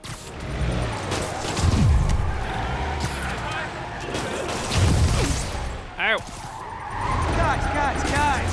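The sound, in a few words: truck driving and skidding in Marvel's Spider-Man PS4 video game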